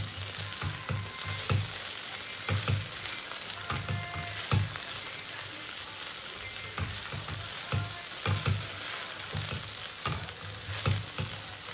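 Okra frying in a pan, dusted with ground dry-roasted coriander and cumin, sizzles steadily while a spatula stirs it in repeated scraping bursts, close and alone with no voices.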